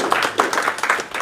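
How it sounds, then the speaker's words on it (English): Short burst of applause at a town board meeting in the Town of Oregon, a small room of people clapping briefly with uneven, scattered claps, fairly close. "a round of applause"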